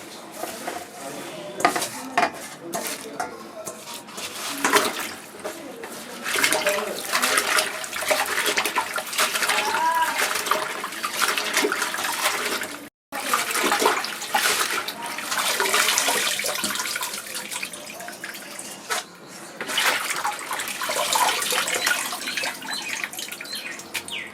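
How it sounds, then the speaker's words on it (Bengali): Red amaranth greens being washed by hand in a metal pot of water, with steady splashing, sloshing and clinks of the vessel close by, continuous apart from a brief pause, no voices. "শাকটা ছাড়ানো হয়ে গেছে আমি ভালো করে ধুয়ে নিচ্ছি আগে"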